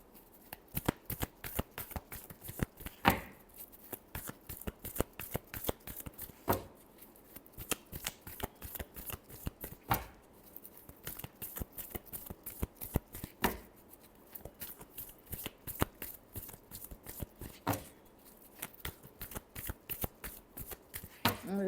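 Tarot cards shuffled by hand over a long stretch, a rapid run of crisp riffling clicks and slaps in bursts with short pauses, close and fairly quiet, with no talk.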